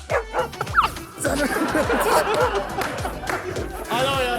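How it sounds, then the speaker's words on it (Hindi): A dog barks and yips repeatedly outside, loud and fairly close, mixed with lively chatter from several people. "और सडनली ना नाव कंटिन्यू नहाते नहाते बाहर से एक कुत्ता भौंकता है।"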